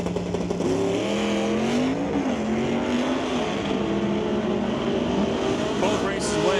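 Drag racing at a raceway, with a Mercury Comet and a 1963 Ford Fairlane launching and roaring loudly as the engine climbs and drops through rapid upshifts. An announcer talks over the engines throughout.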